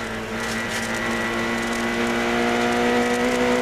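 Rally car on a Monte Carlo Rally stage pulling away, a loud sustained engine note climbing steadily in pitch as it accelerates, heard close and alone.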